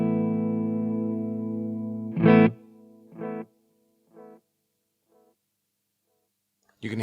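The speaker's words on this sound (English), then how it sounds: "This is the tape delay." A sustained, distorted guitar chord from a Marshall MG50CFX amp cuts off, followed by a string of tape delay repeats that grow duller and quieter, a gap, then a new strum.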